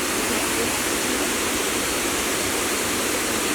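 Kima Atas waterfall near Manado pours in a constant, loud, broadband roar that holds steady without a break.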